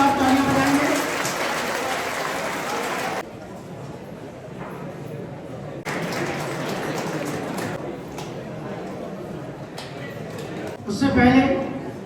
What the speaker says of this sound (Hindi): एक बार जोरदार तालियां बजाएंगे।